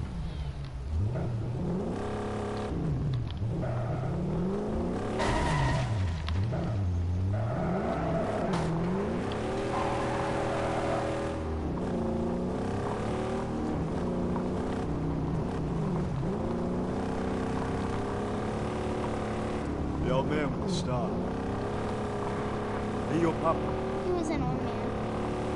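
A car in the Mad Max video game drives and revs, its engine rising and falling in pitch through repeated acceleration sweeps, loud and continuous for the whole stretch, with a voice talking now and then over it.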